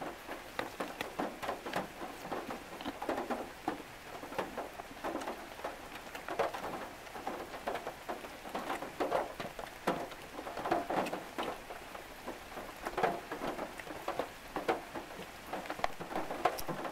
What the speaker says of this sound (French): La pluie tombe sur moi.